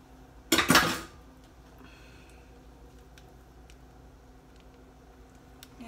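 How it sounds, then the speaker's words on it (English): Sausage dropped into a metal pan in a home kitchen: one short, bright clatter and scrape near the start, then only quiet room noise. "I'm just gonna take this out and put it in this pan."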